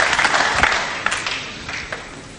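Crowd applauding a shot at a professional pool match, a broad burst of clapping that starts loud and slowly fades, with no talk over it.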